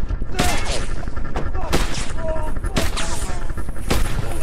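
Gunfire in ROT, a psychological horror video game inspired by Silent Hill: several loud, sharp shots ring out at irregular intervals over a rumbling, noisy background.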